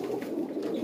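Breeder pigeons coo close by in a short, low, throaty burst, soft and continuous with no speech.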